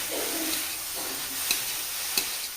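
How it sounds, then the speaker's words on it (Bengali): Carrots frying in ghee for halwa, a soft continuous sizzle with a few light clicks of a stirring spoon against the pan. "গাজরগুলো ঘিয়ের মধ্যে পুরো ভুনিয়ে আছে ভালো করে ভাজা ভাজা করে নেব"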